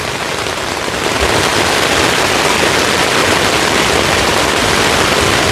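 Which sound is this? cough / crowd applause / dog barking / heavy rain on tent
heavy rain on tent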